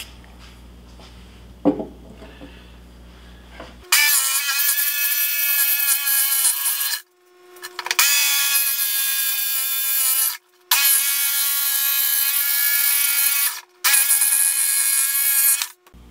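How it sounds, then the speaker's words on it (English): A power drill boring a hole for a dust collector exhaust runs loud and steady in four long bursts with brief pauses, after a short quiet stretch with a single knock. "Then we'll go ahead and drill an identical hole right next to it for the exhaust."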